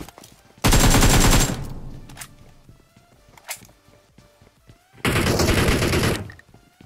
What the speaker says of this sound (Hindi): राइट साइड वाली बिल्डिंग से भाई एकदम से फायर आ रहा है, लेफ्ट साइड से फायर आ रहा है